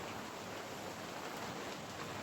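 Steady rain falling outdoors in a workshop yard, a dense even hiss across the whole stretch with no pauses, fairly close and moderately loud, with no voices.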